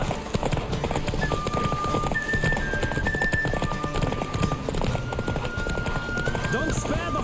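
Roach, a horse in The Witcher 3 video game, gallops with a steady, rapid drum of hoofbeats and an occasional whinny, set under continuous game music and ambient wind.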